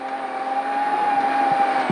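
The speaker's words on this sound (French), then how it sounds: "Poussant les limites de la voiture et au-delà, Clark commence à faire trembler Grotchowski" A rally car at full throttle on a snowy winter rally stage, a steady high engine drone carrying through the whole stretch with a couple of brief thumps near the end.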